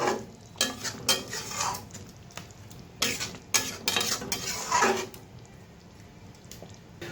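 A spoon stirs prawns in yogurt curry in a pan, giving several bursts of scraping and clinking against the metal over a soft simmer, close by, before the pan goes quieter.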